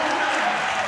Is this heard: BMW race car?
no